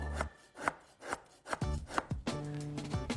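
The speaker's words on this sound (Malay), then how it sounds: "Mudah saja kita nak pakai gula Melaka ni. Kita just potongkan dia nipis-nipis." A knife slices palm sugar (gula Melaka) into thin pieces, giving close, repeated scraping and cutting strokes in an uneven rhythm, heard alone.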